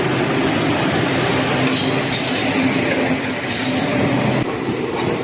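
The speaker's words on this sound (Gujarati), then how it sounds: "ટ્રેન આવી ગઈ છે એ ટ્રેન છે ભાવનગર વેરાવળ" The Bhavnagar–Veraval passenger train pulls into Lusala station with a loud, steady rumble of rail cars and faint wheel clatter, close by and continuous throughout.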